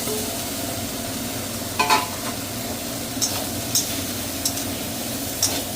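In a pan for aloo posto, a steady low sizzle runs beneath fried potatoes being stirred in, with several distinct scraping clinks of the spatula spaced through the clip.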